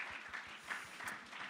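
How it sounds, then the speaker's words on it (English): Small round of applause from a modest audience at a gala dinner, a short burst of scattered clapping that stays fairly quiet and steady throughout. "That's a little clap."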